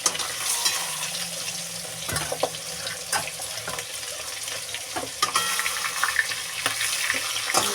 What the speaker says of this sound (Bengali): দেখো আমার মাছটা ভাজা হয়ে গেছে